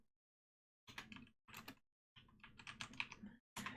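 Computer keyboard typing a chmod command in a quiet room: several short bursts of quick, close key clicks separated by brief pauses, with no speech.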